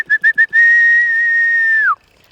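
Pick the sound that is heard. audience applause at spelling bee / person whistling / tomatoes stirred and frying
person whistling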